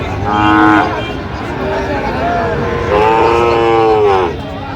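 Sahiwal breed cattle at a Dhaka farm give two long, loud, nearby moos, the second drawn out longer, over steady background noise.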